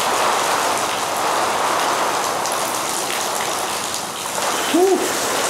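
Hurricane rain lashes down in a dense, constant roar, driven by strong wind onto palm fronds and buffeting the microphone, loud and close throughout.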